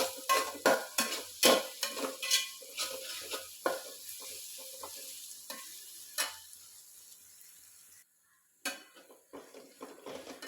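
Garlic fries in hot oil in a pot, with a soft sizzle under repeated clinks and scrapes of a metal spoon stirring against the pan. The stirring comes in irregular bursts and then pauses briefly before resuming.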